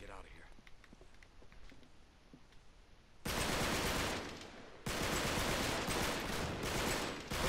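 Gunfire in the PS4 video game Uncharted: The Nathan Drake Collection, a sudden loud, dense burst of shots that stops briefly and then resumes, following a quieter stretch of game ambience.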